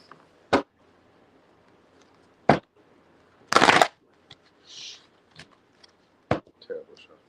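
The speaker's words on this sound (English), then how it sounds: "shuffle." Tarot cards are shuffled and snapped in a few sharp, separate bursts with quiet gaps between them, close by.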